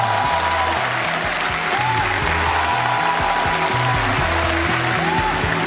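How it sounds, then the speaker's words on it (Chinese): Studio audience applause at a talk show, a dense steady clapping close up that fills the whole span, with music playing underneath. "掌声有请。"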